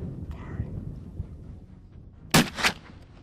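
A muzzleloader rifle fires one sharp, loud shot with a rolling echo while hunting Spanish goat at about 80 yards outdoors, after quiet low murmuring.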